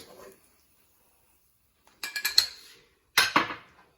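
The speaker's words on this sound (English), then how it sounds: "I'm going to take out the bacon from the pan" Bacon being lifted out of a frying pan, a few short metallic clinks and scrapes of a utensil against the pan separated by silence.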